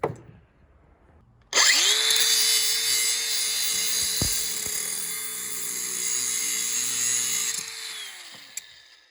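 A power drill grinds steadily through a metal axle for several seconds, loud and close, with a sustained whine that stops abruptly near the end.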